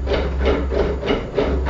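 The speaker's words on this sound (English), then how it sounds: "like this drill here. We use it to drill." An old-time hand drill bores into wood, giving a steady rasping, rubbing grind that swells in rhythmic pulses with each turn of the crank, close and alone.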